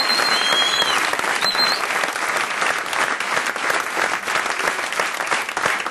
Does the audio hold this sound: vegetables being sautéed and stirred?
no